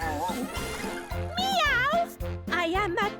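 A cartoon cat character's voice sings and speaks an imitated meow, bright and close, with a sung, childlike melody and music underneath.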